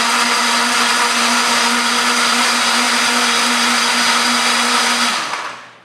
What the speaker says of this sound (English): I'm just going to blend this up.